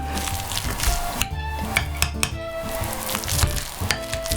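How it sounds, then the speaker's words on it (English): A plain hand masher works cooked potatoes in a pot for a rustic Irish stew meal, with repeated soft squelching thumps and metal scraping against the pan in an uneven rhythm, close and fairly loud, with no talking. "let's mash those potatoes up"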